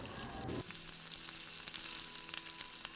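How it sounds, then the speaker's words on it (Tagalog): Ginger, onion and garlic sauté in very hot oil for cream dory sinigang, a loud sizzle after an initial burst as ingredients hit the pan, with faint crackles and light stirring throughout. "mainit na mainit na yung ating mantika bago natin isote yung ginger"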